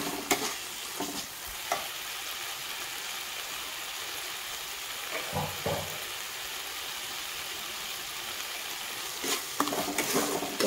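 Spice paste for rajma fries in oil and is stirred: a soft, steady sizzling hiss with occasional faint clinks and scrapes of the spoon, fairly quiet throughout.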